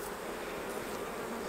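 Honey bees buzzing around an open hive during a honey harvest, a faint, steady, dense hum that continues without a break and with no voices.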